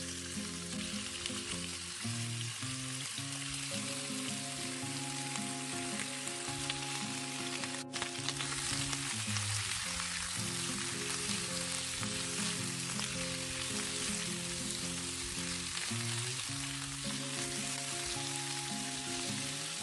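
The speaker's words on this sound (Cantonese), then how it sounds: "我哋爆一爆啲牛肉" Beef stir-fried in a hot pan for a tomato braise gives a loud, steady sizzle that runs the whole way through, with tonal background music playing underneath.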